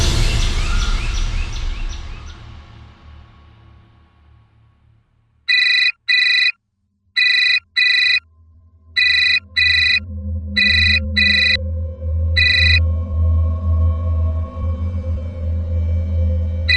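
A phone rings in a domestic TV crime drama scene, sounding in repeated short electronic bursts of four or five pairs over about seven seconds, moderately loud over low background music.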